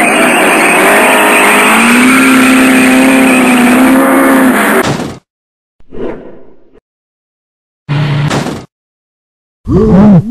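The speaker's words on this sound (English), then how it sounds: "Ladies and gentlemen, here is a motorbike stunt driver, Kate Ashby." A stunt motorbike engine roars loud and close for several seconds, then cuts out, followed by short bursts of noise separated by silence.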